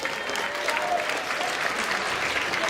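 An audience at a museum date-night event gives a round of applause after a magic trick, a brief burst of brisk, full clapping with a few faint voices in the mix.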